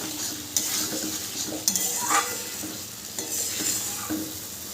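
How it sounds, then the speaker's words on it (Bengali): Paneer is stirred with spices in a pan, giving a steady close sizzle and frying hiss with a few scraping and clinking utensil knocks against the pan, no talk. "এবার পনির দিয়ে সমস্তটা আমি মিশিয়ে নেব।"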